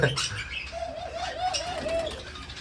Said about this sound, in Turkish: Güvercinlerimiz burada.